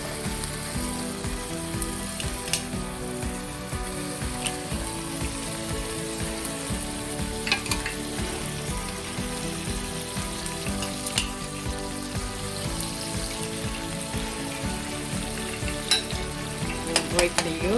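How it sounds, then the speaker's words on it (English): An egg cooking in a little oil in a wok beside pad thai noodles, with a steady close sizzle and repeated spatula scrapes and taps over the pan throughout. "I'm going to cook my egg for a little bit of oil"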